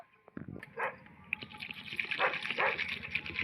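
Okra seeds and petals being washed in water, with running, gushing water and splashing from hands moving through it, close and steady, building after the first second with a faint voice underneath early on.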